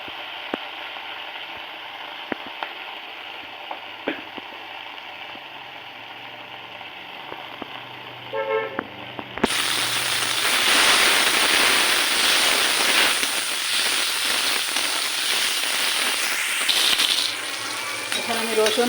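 Prawns drop into hot oil in a home kitchen pan, setting off a loud, steady sizzle and crackle that swells suddenly and carries on without a break, with a quiet voice and small clinks heard beforehand.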